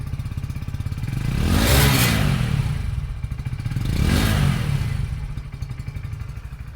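A 2024 Hero Splendor Xtec BS7 motorcycle engine runs close up with a steady idle pulse, rising into two distinct revs that swell and fall back to idle.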